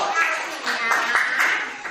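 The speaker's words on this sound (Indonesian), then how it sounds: "Tepuk tangan untuk kalian semuanya." Children clapping in an Indonesian primary classroom after their maths scores are read out, a short run of quick, close claps with loose, pulsing rhythm and a voice faintly mixed in.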